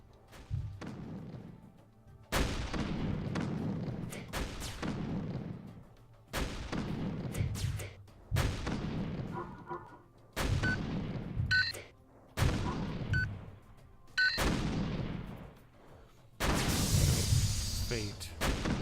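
Repeated heavy artillery blasts in the strategy video game Habitat, several loud booming shots spaced a couple of seconds apart, each with a long rumbling tail, with a burst of crackling debris near the end.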